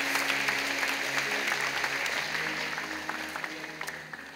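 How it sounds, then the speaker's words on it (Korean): A church congregation at a Sunday worship service claps in welcome, sustained applause that gradually thins toward the end over a soft background tone, with no speech. "여러분 크게 박수로 환영하십시오"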